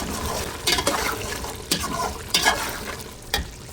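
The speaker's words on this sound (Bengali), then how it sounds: "এখন এর মধ্যে আমি ধুয়ে রাখা সৌদি আরবের পোলার চাল দিয়ে দিচ্ছি" Washed Saudi polao rice tipped into a pot of cooked spiced meat, with repeated stirring scrapes and a soft wet sizzle underneath, close by and without talk.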